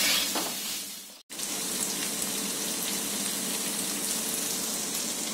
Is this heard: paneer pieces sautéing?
yes